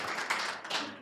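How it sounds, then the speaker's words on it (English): Short burst of audience clapping at a school district board of trustees meeting, a room of hands applauding together in a brief, fairly quiet patter with a couple of louder swells. "Let's give them a clap."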